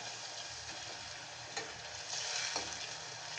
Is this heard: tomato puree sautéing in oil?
yes